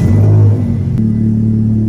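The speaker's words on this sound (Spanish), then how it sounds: "Escucha el encendido en frío." A Mitsubishi Lancer GTS fitted with a new aftermarket exhaust idles after a cold start, a loud, deep, steady rumble that drops to a slightly lower settled note partway through.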